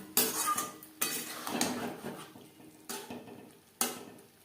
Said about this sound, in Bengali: আলু ফুলকপির সাথে মশলা বেশ ভালো করে মিক্সড করে নেব